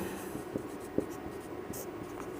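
Pen writing by hand on paper during a Hindi chemistry lesson on metals, iron oxide reacting with aluminium: steady scratchy strokes with a few sharper taps, close and fairly quiet, with no talk.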